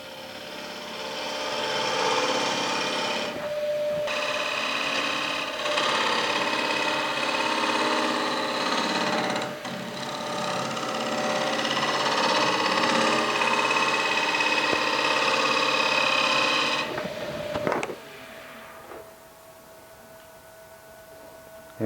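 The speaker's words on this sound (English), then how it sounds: "I just can do some shear scraping here to tidy up the bowl and refine my shape." A wood lathe spins as a shear scraper works a charcoal rim bowl, giving a loud, continuous scraping whir with brief pauses, then the motor winds down near the end, with no talking.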